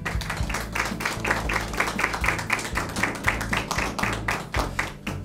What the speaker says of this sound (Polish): Szanowni państwo, wielkie brawa.